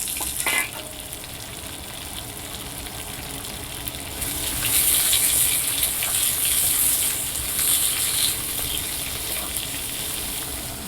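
Onions fry in a pan with a steady, fairly loud sizzle that swells midway, accompanied by light stirring and some watery hiss, with no one talking.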